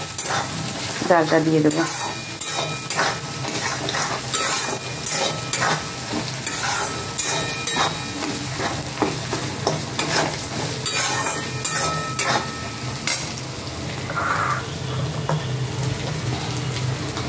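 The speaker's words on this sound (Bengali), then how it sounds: "গরম মশলা দিলাম, দিয়ে এবার একটা ভালো করে নাড়িয়ে" Garam masala is stirred in a frying pan, loud continuous sizzling with rhythmic scraping strokes close up, and someone speaks briefly early on.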